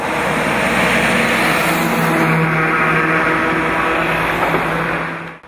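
Heavy trucks and cars pass along a busy street in Slatina, a loud continuous rumble and engine roar that swells and holds for several seconds, close by, with no voices.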